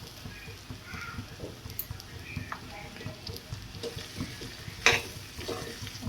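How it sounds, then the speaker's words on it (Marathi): Bitter gourd pieces stirred in a frying pan after turmeric and chili powder are added, giving a low steady sizzle with soft scraping strokes and one sharper clatter near the end, close by and without talk. "थोडंसं हलवून घेऊया."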